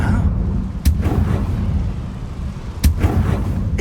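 Fiery Confringo spell blasts in Hogwarts Legacy: two sharp, booming explosions about two seconds apart over a low rumbling game background.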